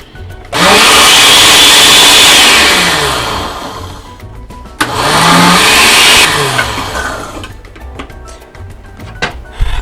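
Two loud bursts of a blender motor whirring at high speed, each winding up sharply, holding, then slowing, with a brief pause between them.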